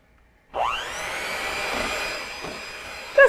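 An electric mixer whirs into crepe batter with added oil, starting abruptly and running as a steady loud motor drone for a few seconds, close up with no voices.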